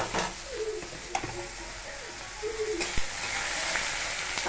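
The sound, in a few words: potatoes and onions added to hot oil, sizzling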